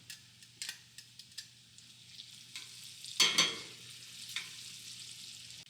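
Garlic fries in a pan with bacon and onions, giving a soft steady sizzle under sharp utensil taps and stirring scrapes, with a louder burst of crackling midway.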